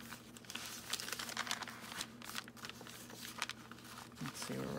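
Brown paper from a paper bag being cut down to size with scissors for a junk journal, giving close, crisp rustling and crinkling snips over a steady low hum, with no talking.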